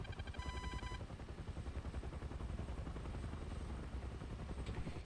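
Helicopter engine and rotor in the War Thunder combat game drone steadily and loudly throughout, a dense continuous roar with rhythmic rotor chop, briefly overlaid by electronic beeping tones near the start.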